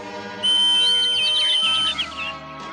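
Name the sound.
bird-calling whistle blown in a Smurfs cartoon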